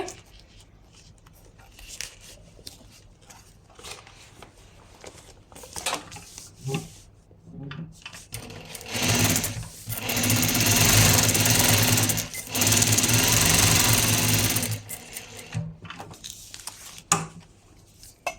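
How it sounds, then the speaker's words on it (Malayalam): A sewing machine stitches over fabric while a garment is being made: quiet handling and brief bursts at first, then a loud, steady whirring run of several seconds, a short pause, and another sustained run before it slows and stops. "ഞാനിതിൻ്റെ മുകളിൽ കൂടിയിട്ട് ഇങ്ങനെ സ്റ്റിച്ചിട്ട് കൊടുക്കാൻ പോവാണ് ഞാൻ"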